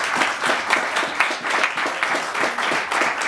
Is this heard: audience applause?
yes